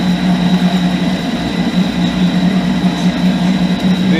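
A Pratt & Whitney Model B metal lathe runs at about 300 RPM, a steady close mechanical hum with a constant low drone and a faint high whine, unbroken throughout.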